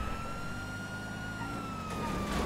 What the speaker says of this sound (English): I turned on the sirens and I just took off.